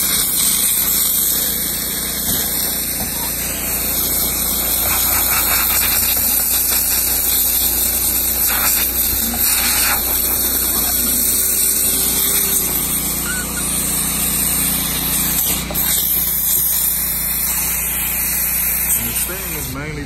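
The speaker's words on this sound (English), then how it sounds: "I'm gonna have to steam." A steam cleaner hisses and sprays steadily while a car interior is being detailed, a continuous close hiss with a motor hum underneath and occasional bursts, and people talk over it.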